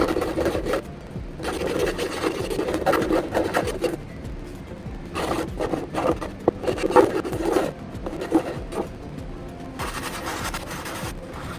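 Hand sanding of a wooden cabinet piece, heard as repeated back-and-forth rasping strokes in uneven bursts with short pauses between them, close up and steady.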